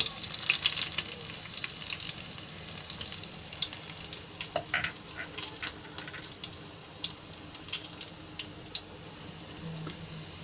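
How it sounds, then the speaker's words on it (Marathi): Garlic sizzles in hot oil for a tempering before ground masala for a mackerel curry goes in, giving a steady crackling fry with dense popping spatters, close and continuous. "हा मसाला त्याच्यामध्ये फोडणीला द्यायचा."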